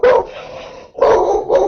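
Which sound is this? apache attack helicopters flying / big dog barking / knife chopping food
big dog barking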